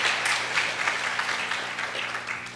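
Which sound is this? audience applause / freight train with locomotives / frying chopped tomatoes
audience applause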